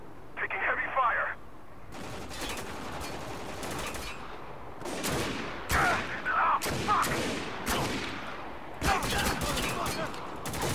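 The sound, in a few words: heavy gunfire in video game Spec Ops: The Line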